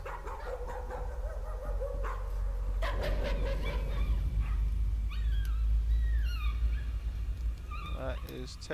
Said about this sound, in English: I don't like the sound of a whimpering pupper.